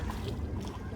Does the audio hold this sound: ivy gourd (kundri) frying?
no